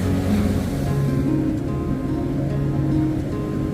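Waves wash in at the St Lucia estuary mouth after a spring-tide storm surge, a loud continuous surf roar with low rumbling swells and no voices over it.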